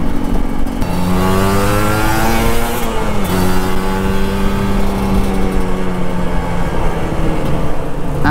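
Two motorbikes, a Honda CRF and a Honda Beat scooter, racing on a road in Medan, with engine drone rising and falling as throttle is twisted, steady and fairly loud throughout.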